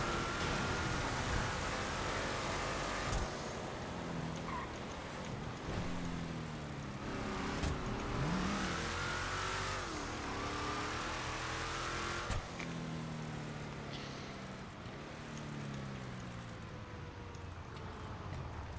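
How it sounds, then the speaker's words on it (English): A truck in the GTA V FiveM driving game revs and accelerates hard, its engine pitch rising and falling through several gear shifts, loud and continuous across the whole stretch. "Just whip my truck up in here because I like it."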